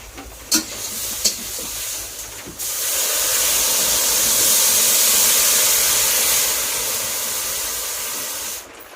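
A pot of fish curry with water just added comes to a boil, giving a steady loud hissing, bubbling rush that swells and then cuts off, after a couple of brief knocks at the start.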